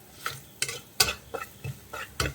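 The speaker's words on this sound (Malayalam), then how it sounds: "മല്ലിപ്പൊടി ചേർത്തിട്ട് ഒന്ന് ഇളക്കി കൊടുക്കും." Coriander powder stirred into sautéed onions in a pan for a Kerala choora fish curry, heard as about seven distinct scraping strokes of a spoon against the pan at a steady pace, close by, with a faint sizzle underneath.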